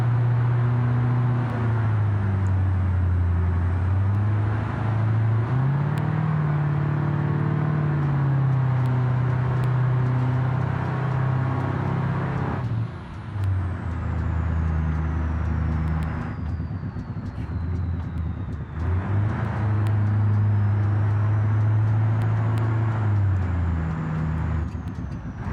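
Car engine purring in a space car video game, a loud, continuous low drone whose pitch rises and dips through several smooth shifts, with no one speaking over it.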